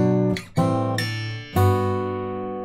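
Clear ringing acoustic guitar strings: three strummed chords, each struck firmly and left to sustain and fade, close and fairly loud with no voices.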